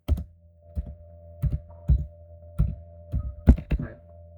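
Keyboard keys tapped while code is written, a dozen or so separate clacks and thuds in uneven bursts, close and clear over a faint steady hum, no voices.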